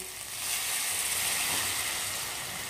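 Water poured into a pan of melting tomato sauce with spice powder, giving a steady, bright sizzling hiss that rises briefly and then continues evenly at close range, with no voices.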